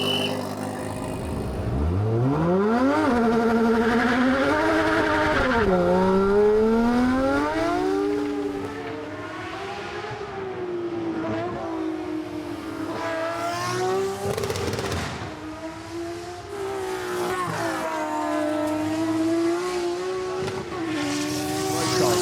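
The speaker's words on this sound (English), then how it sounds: "Now you're looking at the Nissan here, the HR31 GTS-R Skyline, with Stephen Richards driving it" A Nissan HR31 GTS-R Skyline touring race car drives hard, its engine note rising and falling through gear changes and revs, loud and close for about twenty seconds without talk.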